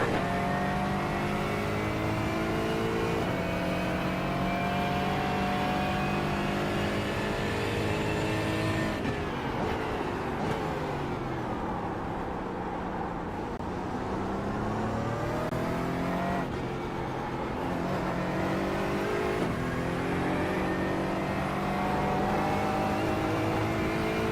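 Faster race cars come up and sweep past in an iRacing session at St. Petersburg: loud, steady engine drones with rising and falling pitch as a group closes in and passes, no talk.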